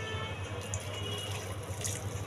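Water, one and a half cups, pours into a cooking pot for a chicken roast, a close, steady splashing gurgle lasting the whole brief moment with no talk.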